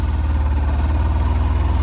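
A motorcycle carrying a double load hums at a steady, low rumble on a broken, rocky mountain road near icy ground in high-altitude Nepal, its engine throbbing evenly and close.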